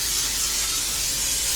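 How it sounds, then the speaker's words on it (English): Cooking spray hissing onto wax paper lining a pan for a pumpkin roll, a close, continuous, steady spray lasting about a second and a half without pause. "you spray the top of your wax paper"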